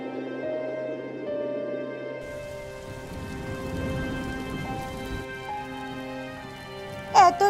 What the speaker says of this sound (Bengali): বৃষ্টি পড়তে শুরু করেছে